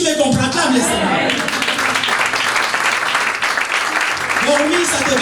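Congregation applauding during a French-language church service, steady clapping throughout at close range, with a preacher's voice and singing-like tones over the start and end.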